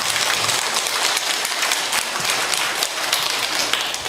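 A large audience claps steadily during a talk on living well in one's fifties and sixties, a dense, continuous patter of many hands that holds at an even, fairly loud level throughout.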